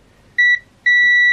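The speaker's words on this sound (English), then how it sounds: "I've got the beep" A Mestek DM100C digital multimeter gives two clear continuity beeps: a short tone, then after a brief gap a steady sustained one, loud and alone in a quiet room.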